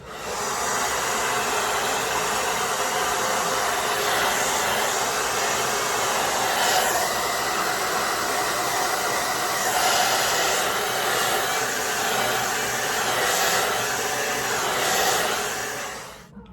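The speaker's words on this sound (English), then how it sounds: "I'm gonna do high, medium heat on high speed." Hair dryer running on medium-high heat at high speed, a loud, steady roaring whoosh held close throughout with slight fluctuations in airflow, during a glueless frontal wig install.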